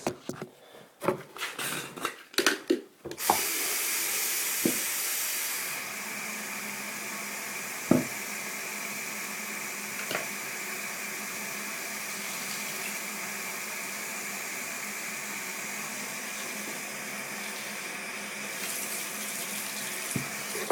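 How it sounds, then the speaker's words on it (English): Tap water pours steadily into a container with a continuous rushing hiss, preceded by a few handling knocks and followed by occasional clunks as it fills. "I'm going to fill this up with water just to show you guys"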